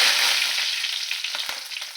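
Mustard seeds, cumin and curry leaves crackle in hot oil, a bright close sizzle that gradually thins into sparse spitting pops, with one sharp tap near the middle.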